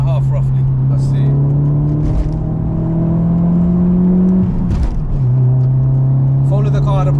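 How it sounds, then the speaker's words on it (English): Engine drone of a 2000 Volkswagen Golf GTI MK4 with a Stage 1 tune accelerating, heard from inside the cabin, steady rising tone with a brief dip mid-way, a faint whistling turbo spooling whine riding over it. "I can hear the turbo spooling"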